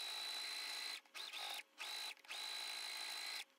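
Sewing machine stitching a Christmas stocking seam at close range, a high motor whine in several steady runs broken by brief stops, with no talking.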